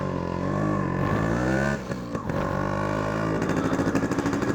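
A Yamaha RX100 motorcycle engine starting, running steadily with a deep throbbing rumble, briefly sputtering midway before catching again and revving with a rhythmic pulsing beat.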